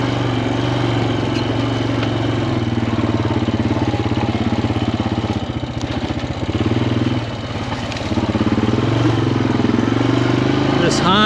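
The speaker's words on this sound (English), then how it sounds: "This Honda is a full-time four-wheel drive." A Honda full-time four-wheel-drive vehicle rides along a freshly cut woodland trail, its engine drumming steadily up close and dipping briefly mid-ride, with voices talking over it.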